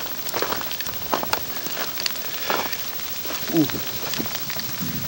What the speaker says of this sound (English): because it is now all sleet.